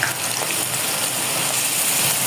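Garlic paste drops into hot oil for a Bangladeshi fish curry, giving a loud, steady hiss and crackle of frying that runs unbroken throughout.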